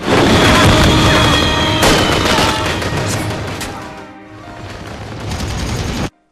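Terrorists fire indiscriminately inside a railway station, a loud, dense fusillade of rapid gunshots and booms that rolls on continuously before cutting off abruptly at the end.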